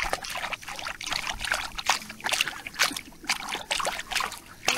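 Running water splashes and trickles unevenly as something is rinsed and scrubbed under a flow, with irregular wet bursts close by and no talk.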